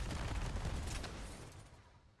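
Heavy burst of gunfire from the Cedo weapon in Warframe, a dense, booming blast that fades out over about two seconds, with no voices.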